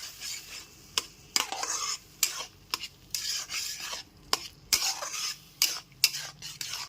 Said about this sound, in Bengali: ক্রমাগত নেড়ে এরকম দুধের সাথে সুজিটা খুব ভালো মতো মিশিয়ে নিতে হবে